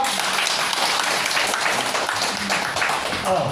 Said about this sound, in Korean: 훌륭한 강의를 해주신 김용호 우리 박사님께 다시 한번 큰 박수로.